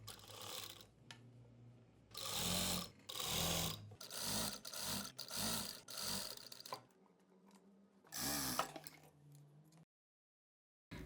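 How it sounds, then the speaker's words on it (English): A sewing machine runs in repeated bursts, stitching a folded quarter-inch edge on a fabric sleeve. The bursts are loud and mechanical, separated by short pauses, and the clip ends in near silence. "So I'll just stitch the edge here, fold by 1/4 inch and put a stitch to this folded side."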